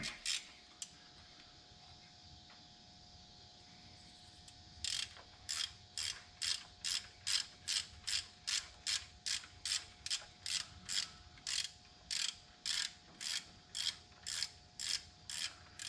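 A ratchet on an Allen head clicks in rapid regular bursts, each stroke a quick run of ticks, while an alternator mounting bolt on a 1966 Belair is worked loose, close and clear after a quiet start.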